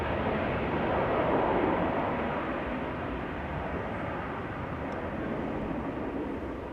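An airliner departing Amsterdam Schiphol for Düsseldorf sends out a dense, distant jet rumble that swells slightly early on and then settles into an even, continuous roar.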